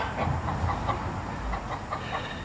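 Repeated short clucking calls from a Brahma rooster, fairly close, over a steady background rumble with no voices.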